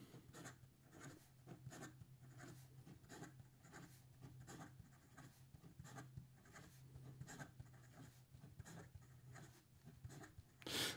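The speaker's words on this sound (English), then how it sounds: "And then in regard to some fast writing." A Taccia fountain pen nib writes fast on paper with a faint, continuous scratchy rasp of quick strokes. It sounds close up and quiet, with no voices.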